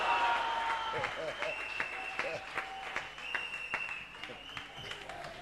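A church congregation at an Easter service claps and applauds, a dense, steady wash of many hands with sustained voices and shouts mixed in.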